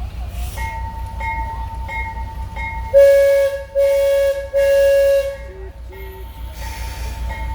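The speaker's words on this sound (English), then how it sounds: "Another 3 blasts on the whistle means he's backing up." An excursion train rumbles steadily while its horn sounds three long blasts as it backs up, followed by a couple of shorter toots over the continuous engine drone.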